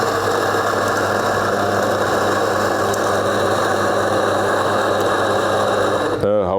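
A Rocket Faustino coffee grinder's motor runs empty to clear retained grounds. It gives a steady, loud, close whirring hum for about six seconds, then cuts off abruptly.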